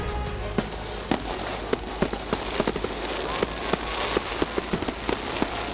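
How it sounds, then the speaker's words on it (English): Fourth of July fireworks burst at the athletic complex of Nathan Hale High School in southeast Wisconsin, giving a rapid series of sharp, moderately distant bangs and crackles over a steady background din. "These fireworks at the athletic complex at Nathan Hale High School in West Dallas tonight."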